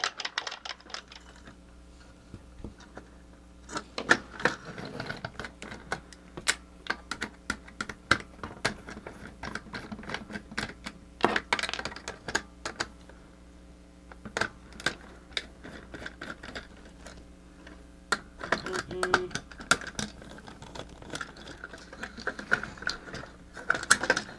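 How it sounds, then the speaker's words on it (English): A 1980s Yonezawa laughing robot toy with its motor shaft mechanism turning, making quiet, irregular mechanical clicks and ratcheting taps close by throughout, with no voices. "It's even like moving on this motor shaft here."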